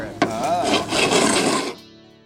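Wood is scratched to cut grip notches for a bat roost, giving a close, rough rasping scrape lasting about a second and a half after a sharp knock.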